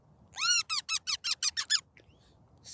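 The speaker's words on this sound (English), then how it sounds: "Squeaks?" Eight rapid high-pitched squeaks from an AI-generated scene come in quick, evenly spaced succession, close and clear, followed by a faint chirp and a brief sound at the end.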